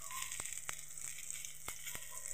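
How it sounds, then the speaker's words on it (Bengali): Ivy gourd (kundri) fries in a pan with a continuous, fairly quiet sizzle, punctuated by occasional sharp clicks and pops, with no voices present. "আর তার সাথে দেখো এখন কুঁদরি ভাজা করছি"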